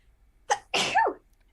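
A single loud, close sneeze with a short intake followed by a forceful burst, heard alone in an otherwise quiet room.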